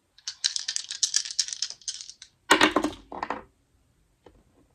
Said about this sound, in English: I will roll these astrology dice to close out.